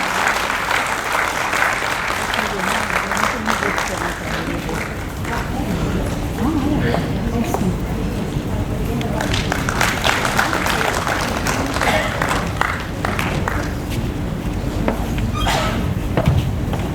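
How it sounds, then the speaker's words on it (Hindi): Audience applause at a stage event welcoming guests, sustained loud clapping from a large crowd lasting the full stretch, with a voice speaking over it. "जोरदार तालियों से स्वागत करिए हमारे अतिथियों का।"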